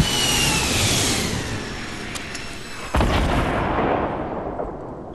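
Gunfire and booming blasts in the video game Fortnite, a dense continuous roar with a sharp loud crack midway, then fading rumble.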